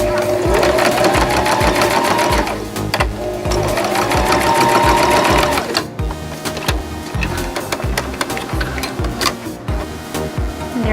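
A sewing machine runs steadily, stitching a dart in fabric for a DIY monster laundry bag, its rapid mechanical needle chatter loud and close with a brief pause midway, while music plays underneath.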